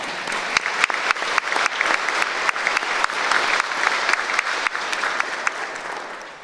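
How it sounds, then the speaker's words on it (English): Sustained applause fills the hall during the Kentucky governor's State of the Commonwealth address, a dense, even wash of many hands clapping with occasional sharper claps standing out. "You deserve at least 2 rounds of applause."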